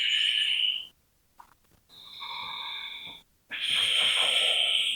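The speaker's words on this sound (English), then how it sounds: "Breathe in and breathe out." Deep breathing in and out during a gentle floor yoga hip opener, heard as long loud wheezy hissing breaths near the mic with short silent pauses between them.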